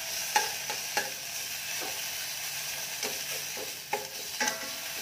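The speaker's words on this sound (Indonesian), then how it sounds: "tumis sampai wangi ya" Dried anchovies (ikan bilis) sautéing in a pan for dumpling soup, a soft continuous sizzle punctuated by about half a dozen sharp spatula clicks and scrapes, no speech.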